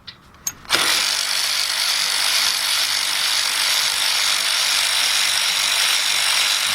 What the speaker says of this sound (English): it's time for the big bill ratchet. Put the 17mm shallow 3/8 drive on